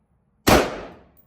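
A single sharp, loud gunshot from a rifle firing dented Winchester .223 Remington ammunition during a velocity test, with a quick decaying tail.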